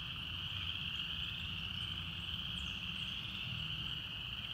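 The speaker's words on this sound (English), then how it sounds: "That is tree frogs." A steady chorus of tree frogs trills continuously at a distance, a high sustained drone over a low rumbling background.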